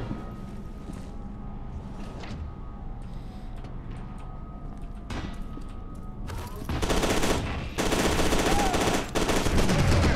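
Gunfire in the shooter F.E.A.R. 2 builds from faint background clatter to loud, dense bursts near the end, with sustained rattling volleys close by over a steady game soundscape.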